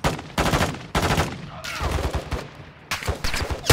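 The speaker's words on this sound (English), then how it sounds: "Oh, taking fire. Taking fire." Bursts of automatic gunfire in Call of Duty Warzone come in loud, close, repeated volleys separated by short gaps, with a faint voice briefly underneath.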